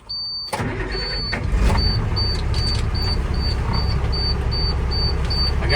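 A black International truck tractor is started during a pre-trip safety check. The engine cranks and catches abruptly, then settles into a loud, steady diesel idle while a high warning beep repeats at regular intervals.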